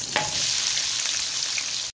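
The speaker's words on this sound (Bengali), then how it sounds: "প্রথমে পেঁয়াজগুলো খুব ভালো করে ভেজে নেব।" Onions hissing and crackling in hot oil, a loud continuous sizzle with one sharp scrape near the start, ending abruptly.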